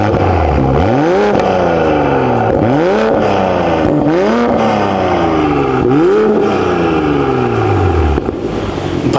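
Close, loud revving from a BMW Z4 M40i running a titanium exhaust with its valves open, four or five sharp throttle blips rising and dropping in a steady rhythm before settling toward idle.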